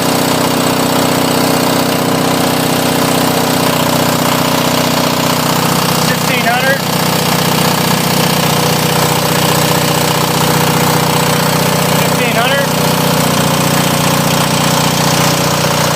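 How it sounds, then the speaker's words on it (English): Onan diesel generator engine running under load, a loud, steady mechanical drone with a constant hum and clatter that holds without change for the whole stretch. "Definitely hear the engine working."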